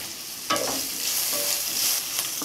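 Oil sizzles steadily in a pan as onions and curry leaves are fried and stirred for sambar, with scraping strokes and a brief louder burst as ingredients are tossed.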